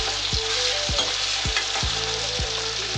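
Masala fries in a pan in a village kitchen, a constant crackling sizzle with a rhythmic series of scraping strokes as it is stirred, close and fairly loud.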